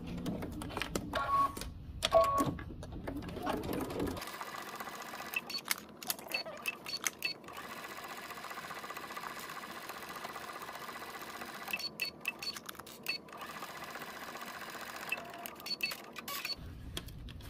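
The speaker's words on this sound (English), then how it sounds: "we're gonna take it to the machine and we're gonna stitch it around the edges" A home sewing machine stitches around the edges of a fabric piece, running as one steady, continuous hum for about twelve seconds after a few brief handling clicks, then stopping.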